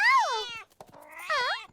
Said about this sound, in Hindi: ये बिल्ली ऐसे नहीं मानेगी।